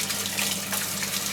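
Water pours steadily into a dish for a captive death adder, a brief continuous trickling splash heard close up with no voices.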